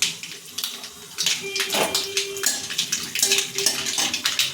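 Mustard seeds and dry red chillies splutter and crackle in hot oil in a home kitchen, with close, sharp bursts of sizzling popping repeatedly over a faint steady hum.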